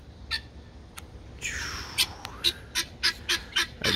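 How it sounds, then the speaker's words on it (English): Guinea fowl calling outdoors at a moderate distance: a run of short, harsh, rhythmic squawks that quicken toward the end, with nobody talking. "Our guineas are going, hey!"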